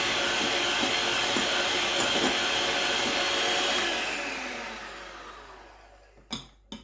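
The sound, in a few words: cream being whipped with a beater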